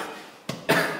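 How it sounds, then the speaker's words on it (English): A person gives two short, sharp coughs close by, the second louder and followed by a breathy tail, in a quiet room of a homestead basement. "I have a combination cough hiccups."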